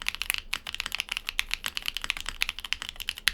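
Rapid typing on a Luminkey80 mechanical keyboard, a dense stream of crisp, clacky keystrokes at an even pace, close and fairly loud with no voices.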